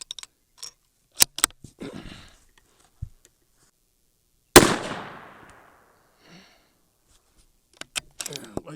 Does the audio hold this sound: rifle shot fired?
yes